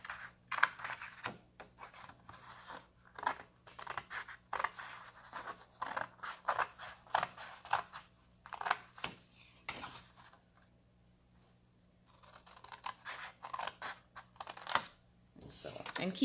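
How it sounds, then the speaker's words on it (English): Scissors snip through cardstock while making a fold-out card, a close series of crisp, irregular cuts with a quiet stretch in the middle before the snipping resumes. "the rest of this we're going to cut out"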